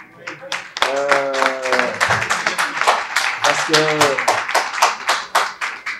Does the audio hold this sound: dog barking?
no